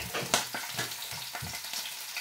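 Food fries in a pan while soup is being cooked: a soft, continuous sizzle broken by repeated scraping pulses, as if the pieces are being stirred or moved, with no talk.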